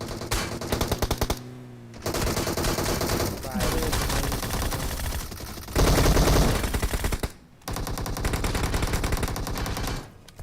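Gunfire in the mobile game BGMI comes in loud, rapid sustained bursts separated by brief pauses, with dense crackling shots.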